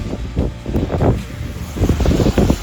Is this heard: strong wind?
yes